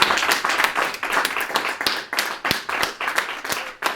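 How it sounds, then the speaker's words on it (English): A small group claps at a grassroots NHS meeting, with fast uneven handclaps over about four seconds, fairly close and moderately loud. "Can we have a round of applause for?"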